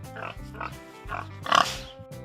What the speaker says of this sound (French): On dit que le cochon grogne ou grouigne.